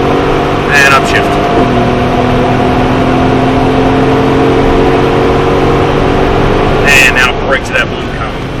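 A supercar engine drones steadily from inside the car on a track, its pitch shifting as it accelerates, with brief bursts of speech over the top near the start and end.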